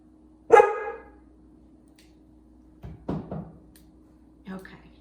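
Dogs bark in the background of a kitchen, one sharp bark and then a few shorter, quieter barks spaced over several seconds against a low steady hum.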